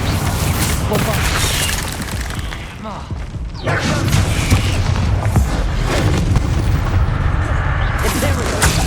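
Bombarda spell explosions in the video game Hogwarts Legacy, a run of loud booming blasts and thuds that roll on almost without pause, close and heavy, with a short dip near the middle before the barrage picks up again.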